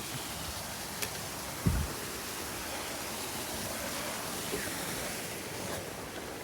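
Stream water flowing steadily along a creek bank outdoors, a continuous soft broadband rush with light wind, fairly even in level, with one brief low thump partway through.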